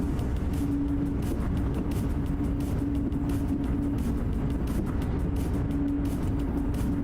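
A train coasting on the Dresden–Leipzig route in Train Simulator Classic gives a steady low rumble of rolling wheels, with faint recurring tonal hums and light rhythmic clatter, continuous and without talk.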